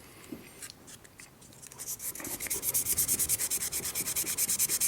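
Hand sanding of corroded contacts on a Honda Accord combo switch for headlights, high beams and turn signals: soft scratchy rubbing grows into a loud, steady run of fast back-and-forth strokes, close up and with no talk.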